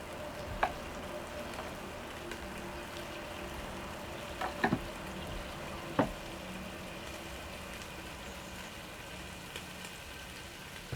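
Pancetta sizzles in a pan with a steady close-up hiss of frying fat and a few brief sharp pops and spits, no one talking.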